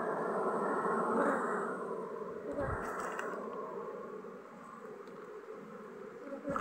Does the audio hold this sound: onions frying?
no